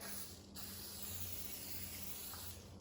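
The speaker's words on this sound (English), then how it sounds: "So I'm just gonna spray it a little bit" Cooking spray from a can hisses onto sticky no-yeast pizza dough in a short, close burst, a soft continuous spray that breaks briefly before a second spritz.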